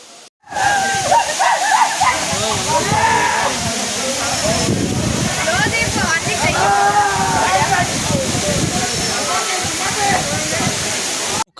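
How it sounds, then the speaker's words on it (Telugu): A tall, rugged waterfall at Araku pours in a loud, steady rushing roar close by, with someone talking over it throughout. "ఒకసారి ముందుకైతే వెళ్ళి చూపెడతాం మీకు వాటర్ ఫాల్."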